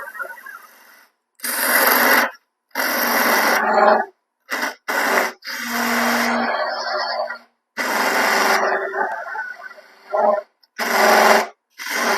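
A wooden tenon spins on a lathe while a skew tool turns it, giving loud, rough scraping bursts with a rattling chatter, broken by short pauses between cuts, with a brief tonal whine in the middle.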